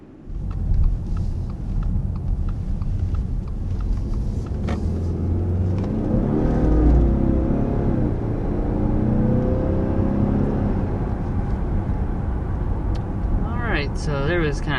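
A 2022 Subaru Ascent with its boxer four-cylinder engine on a test drive gives a steady low drone and road rumble throughout, swelling slightly mid-way, with a voice talking over it.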